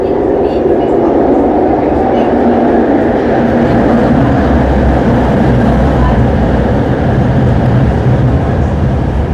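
A light rail train in Kuala Lumpur rumbling steadily, heard from on board or close by, with a continuous broad roar that holds at a constant level, and faint voices mixed into the noise.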